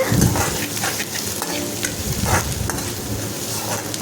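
Onions and chili frying in a pan while being stirred, a loud continuous sizzle with repeated scraping strokes of a spoon against the pan.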